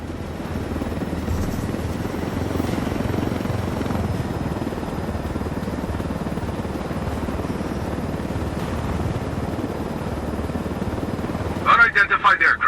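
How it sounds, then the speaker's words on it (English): Helicopter flying in the video game Ghost Recon Wildlands, a loud continuous rotor and engine roar throughout, with a voice briefly speaking near the end. "I told Griffin I could figure out how to fly this thing. Qualify for planes. But not choppers"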